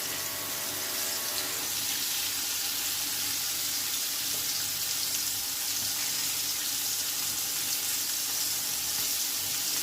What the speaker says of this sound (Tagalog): Just make sure na mainit yung inyong oil bago ninyo ilunod ang inyong fish fillet para sigurado nyo maluto kagad ang inyong isda